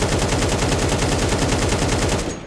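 Continuous rapid automatic gunfire sprayed at one spot in CS2, loud and close, an unbroken rattling burst that cuts off abruptly at the end.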